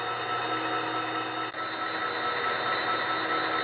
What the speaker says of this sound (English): Get on the lead loco.